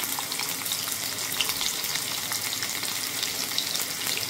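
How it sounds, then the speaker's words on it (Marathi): Chopped onion frying in a small amount of oil for a spicy dhaba-style mutton curry, giving a steady, even crackling sizzle that carries on without a break and without any voice. "आता टाकते मी इथे कांदा पण थोडंसंच बघा"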